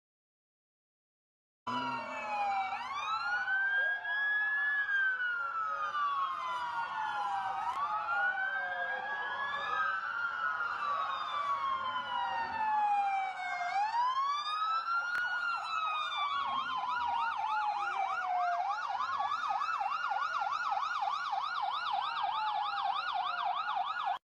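Ambulance and police sirens wail together at length, several overlapping sweeping and rapidly yelping tones rising and falling loudly and continuously, close by and without speech.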